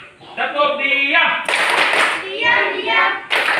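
A classroom doing the tepuk diam clapping chant, with children's voices chanting in rhythm over quick patterned hand claps, close and loud.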